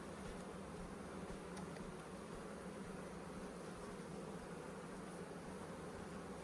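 Honey bees hum in a dense, steady drone from an opened hive during an inspection, a continuous broadband buzz that stays level throughout with no distinct breaks and no voices.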